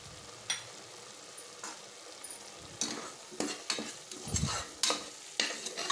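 Mutton biryani masala with ground cardamom and cinnamon stirred in a pressure cooker pot, irregular spoon scrapes and knocks over a quiet background sizzle, close by with no voices.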